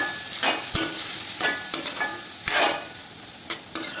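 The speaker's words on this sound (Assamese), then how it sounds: "লৰাই দিছোঁ, ফ্লেমত লৰাই থাকিব লাগিব।" Kuchia eel frying over a flame is stirred with repeated sharp utensil scrapes and knocks against the pan, irregularly spaced over a constant loud sizzle, close up with no talking.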